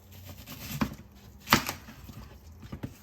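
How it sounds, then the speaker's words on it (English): A knife chops red onion and jalapeños on a cutting board with a few sharp, close knocks spaced irregularly, the middle stroke the strongest, over quiet background. "I've got some jalapeños that I'm going to cut up"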